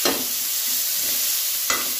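Onions frying in a pan on their way to browning give a steady, loud sizzle, broken by a couple of brief stirring scrapes, close up with no voices.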